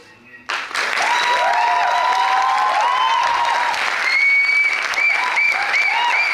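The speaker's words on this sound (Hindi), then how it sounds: "ये आपकी जो तालियां हैं, दर्शकों की जो तालियां हैं" Theatre audience breaks into sustained, loud applause after a stage play, with dense clapping that starts abruptly and continues steadily throughout, some cheering voices mixed in.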